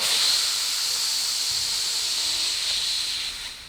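A long, steady breath drawn in through the nose during a guided breathing exercise, a continuous airy hiss held at close range for several seconds before easing off at the end, with no talking over it.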